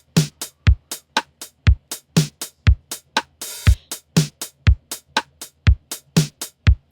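A steady electronic drum pattern programmed in Ableton Live, with punchy kicks and crisp, short closed hi-hat ticks, plus one brief noisy burst midway, tightly quantized and loud.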